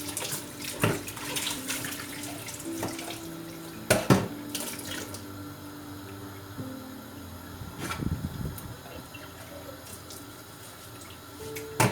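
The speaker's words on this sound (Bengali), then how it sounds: "আমি ওই যে থালা বাটিগুলো এখন ধুয়ে ফেলবো।" Tap water runs steadily into a sink as dishes and bowls are washed, with occasional clinks and knocks of the dishes over a continuous close splash; no one speaks.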